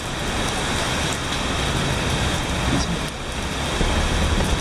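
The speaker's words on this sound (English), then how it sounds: "It's such a rainy day today." Steady rain falling on a back street in Seoul, a dense even hiss that fills the whole span, with faint traffic rumble mixed underneath and no voices.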